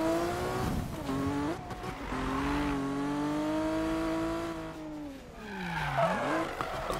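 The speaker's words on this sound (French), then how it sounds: "Un peu de drift." A car drifts through a race in the Need for Speed game, its engine droning in a long sustained tone that rises and dips while tires squeal, loud and close throughout.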